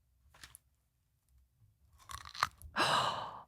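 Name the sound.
crunchy food chewed close to the microphone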